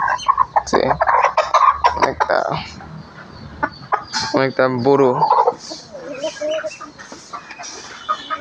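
A black native hen clucks and calls loudly and close in a backyard flock, with a rooster-like crowing phrase midway, while someone talks over part of it.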